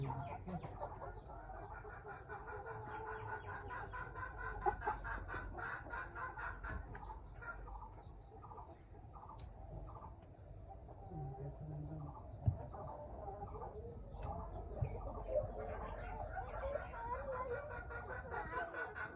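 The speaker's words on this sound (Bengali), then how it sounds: "এই মুরগিটা বেশি খাচ্ছে, কারণ সাইজ বেশি।" Tiger chickens feeding on new feed cluck and murmur in repeated short bursts, moderately close, while people talk intermittently around them.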